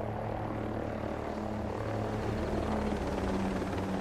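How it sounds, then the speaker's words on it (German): A helicopter in a combat video game drones steadily and loudly with a constant rotor thrum throughout, with no speech over it. "nicht ein Heli, nicht jetzt"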